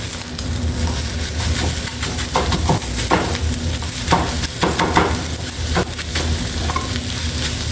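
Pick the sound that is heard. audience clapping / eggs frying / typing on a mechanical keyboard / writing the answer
eggs frying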